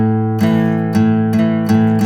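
A guitar chord strummed with the open fifth string ringing, struck about four times in a steady rhythm, each hit sustaining full and close with no voice over it.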